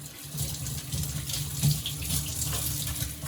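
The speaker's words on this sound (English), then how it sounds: "I'm rinsing my hands off." A kitchen tap runs steadily while hands are rinsed beneath it during preparation of a Jamaican-style steamed fish dish, the water stream splashing continuously and close, with a slight change in the splash partway through.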